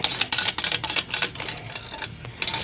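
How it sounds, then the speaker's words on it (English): A small stubby ratchet tightening driver-side exhaust flange bolts on an On3-equipped Coyote engine: quick bursts of crisp metallic clicking, close and fairly loud, with short pauses between strokes. "I'm using a little stubby ratchet."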